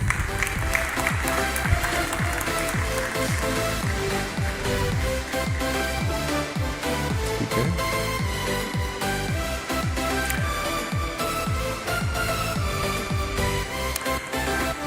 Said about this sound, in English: please come and receive a round of applause and acknowledgement from the Vice Minister